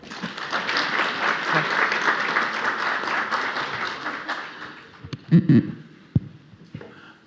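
Audience at a legal conference panel giving a round of applause, steady clapping for several seconds that tapers off, leaving a few scattered claps and thumps.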